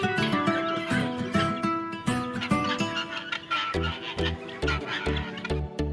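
Caged birds in a netted aviary at a Tehran bird garden call and cluck continuously, with a busy overlapping chorus of tonal cries and clucks throughout, fairly close and with no talking.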